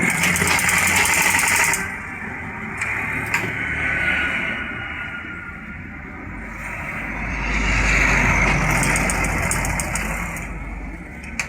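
A sewing machine stitches a trouser back pocket with a steady mechanical whir and rattle, pausing and slowing briefly before picking up again, loud and close.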